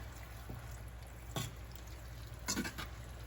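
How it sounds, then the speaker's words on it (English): A little water is poured into a pan of pepper steak thickened with brown gravy mix and bouillon, giving two short splashing bursts over a low steady background hum. "I did add a little bit of water."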